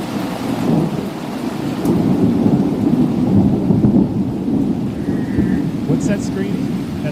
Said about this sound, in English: And this is thunder.